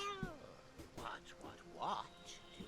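A kitten in the fantasy role-playing game Divinity: Original Sin gives a few short, faint meows that rise and fall, spread across a couple of seconds.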